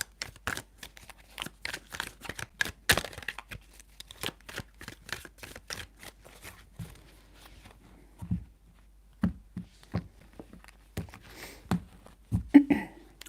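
Tarot cards shuffled by hand in three rounds, a dense run of crisp riffling flicks and slaps near and close, then sparser single taps and card snaps, with no talking.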